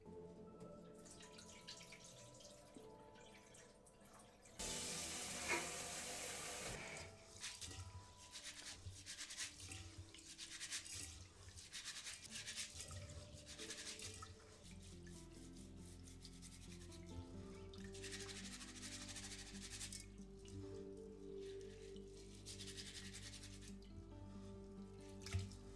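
Rice rinsed by hand under running water for Japanese curry, with continuous rubbing and swishing of grains and a tap flowing in the background. A loud splashing burst comes early, then steady scrubbing follows.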